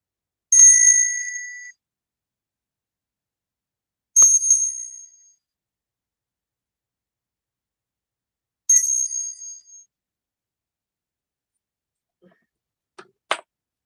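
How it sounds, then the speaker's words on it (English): A bell is rung three times, each bright metallic ding ringing out over about a second, spaced several seconds apart in silence, followed by a few faint clicks near the end. "I'm going to ring this bell."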